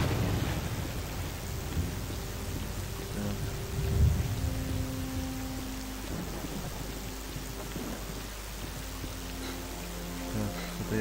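Rain and thunder weather in the video game S.T.A.L.K.E.R.: Clear Sky, a steady hiss of heavy rainfall with low rolling thunder rumbles, one swelling louder midway, continuing throughout without speech.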